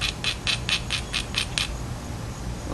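Rhythmic scraping strokes of a tool grinding the platform edge of an obsidian flake, about eight quick, even rasps close up, then stopping into quiet.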